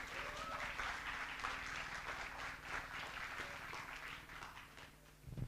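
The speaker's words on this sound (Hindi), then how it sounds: "चलो एक बार जोरदार ताली बजा दो यार इसके लिए" An audience at an acting induction programme applauds loudly, a dense, sustained patter of many hands clapping that fades slightly toward the end, with faint voices mixed in.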